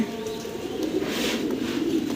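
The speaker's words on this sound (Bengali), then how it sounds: "এই যে দুই জোড়া কবুতর এই কার্টুনে করে পাঠিয়ে দিচ্ছি" Two pairs of pigeons coo softly inside a cardboard carton being packed for delivery, low murmuring coos running continuously and close by without talk.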